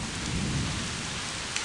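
September rain in Guajará-Mirim, Rondônia, falls as a steady, dense hiss with a low rumbling undertone and no voices.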